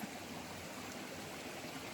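A forest stream flows along the Malibodawa jungle trail to Sri Pada near Deraniyagala, giving a faint, even rush of water with no break and no voices.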